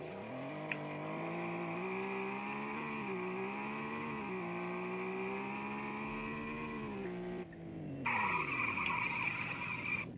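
Aston Martin Vantage on a race track with ABS switched off, tyres skidding in a long steady squeal as the brakes lock, engine droning beneath, then a sharper, brighter screech near the end.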